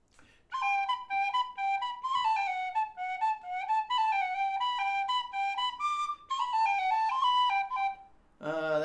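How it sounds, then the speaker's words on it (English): A lively tune on a low D whistle, the folk air The Rakes of Mallow played close and clear as a run of quick ornamented notes with brief breaths between phrases, ending as a voice begins speaking. "Try a little on my Wild Irish"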